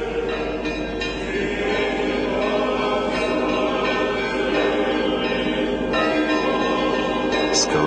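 Easter church bells peal from a bell tower, a dense continuous wash of ringing that fills the whole stretch, loud and close with no pauses.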